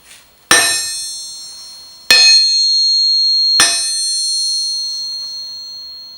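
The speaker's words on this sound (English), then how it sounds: "I hope you can hear that kind of long-lasting, very high-pitched ring like a bell" Three hammer blows on the horn of a cast steel anvil, evenly spaced and close, each leaving a bright, high, bell-like ring that lingers and slowly fades.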